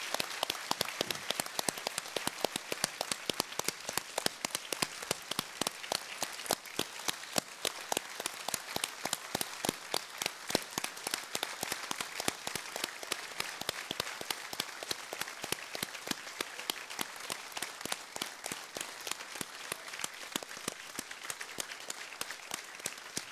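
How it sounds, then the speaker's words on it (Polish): An audience at a university ceremony conferring an honorary doctorate on Sławomir Mrożek claps in long, rhythmic unison. The even beats keep a steady pace throughout. "Przywitajmy oklaskami naszego wspaniałego doktoranta."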